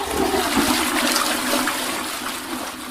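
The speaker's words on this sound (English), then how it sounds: "Did he just flush himself down the toilet without inputting any coordinates?" A toilet flushes loudly and close by, a rushing gush of water that holds steady for about three seconds and then eases slightly. Nobody talks over it.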